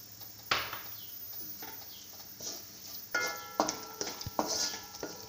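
Chopped onions, half a cup from one medium onion, frying in a pan with a steady soft sizzle and occasional stirring clatters, louder scrapes toward the end.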